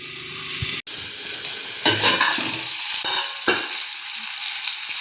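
Salted dry fish sautéing in a pan makes a steady close sizzle and fry, broken by a few scraping stirs, with no talking.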